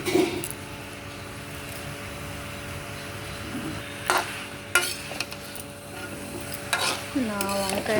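A spoon stirs a tempering of dried red chillies, green chillies, curry leaves, mustard seeds and cumin into a brinjal curry in a pan, with scraping strokes and light sizzling over a steady background hum.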